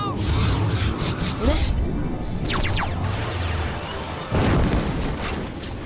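Explosion in the action video game Jak 3: loud booming blasts and whooshing bursts, one after another, with a fresh heavy burst near the end amid game sound and a voice talking underneath.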